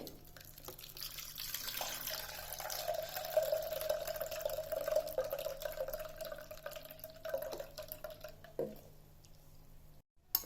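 Blended coriander soup mixture is strained through a filter, liquid trickling and dripping steadily in a kitchen for about ten seconds, ending with a brief sudden quiet.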